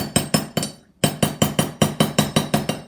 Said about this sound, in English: I'm going to go ahead and just do some hammering. Again, that's a hammer.